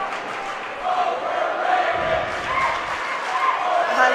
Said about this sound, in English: Has the Vista crowd chants overrated